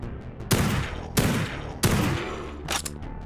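Pistol fire in the retro-style shooter Project Warlock: three loud, sharp shots spaced roughly evenly, each followed by a short decaying tail, with a busier burst of game noise near the end.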